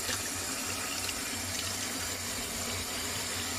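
Cold water runs steadily from a kitchen tap, a dense, even hiss-and-splash at close range with no pauses and no voices.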